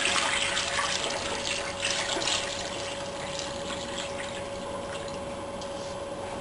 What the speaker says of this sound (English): So I'll just add some more hot water.